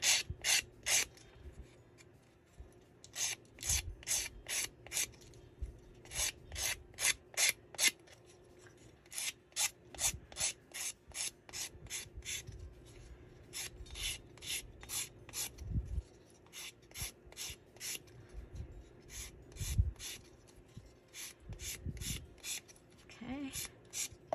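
Edges of a handmade embellishment piece are distressed by hand rubbing: close, rhythmic rasping strokes come in quick bursts of several at a time, separated by short pauses, with faint low thuds beneath.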